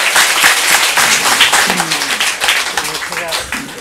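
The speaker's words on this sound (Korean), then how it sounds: "박수." An indoor audience breaks into loud, sustained applause during a speech, dense clapping continuing throughout with a voice heard over it.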